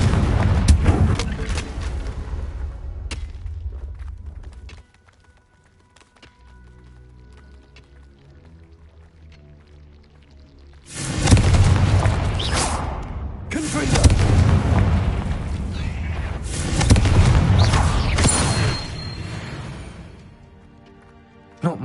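Confringo blasting spell explosions in the video game Hogwarts Legacy, heavy booming blasts with rumbling tails, a loud opening stretch, a quiet gap, then two more strong explosive surges.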